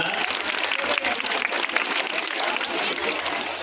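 Crowd of schoolchildren clapping loudly after a magic trick in which a bottle vanishes, a continuous dense applause lasting a few seconds at close range.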